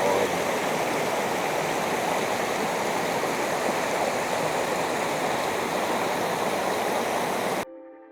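Siahkesh waterfall near Bandar Khamir, Iran, pours in a loud, steady, broadband rush of falling water heard up close, continuous throughout before stopping abruptly.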